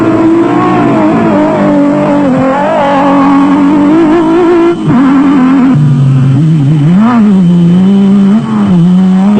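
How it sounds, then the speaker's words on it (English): A Nissan four-wheel-drive off-road race car powers through a muddy section at a South African off-road race, its engine droning loud and steady at close range with rising and falling revs and no talk. "as the Nissan powers its way through the section"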